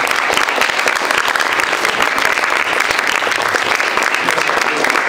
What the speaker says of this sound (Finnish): Eikö anneta raikuvat aplodit näille panelisteille?